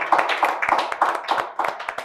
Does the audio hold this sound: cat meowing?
no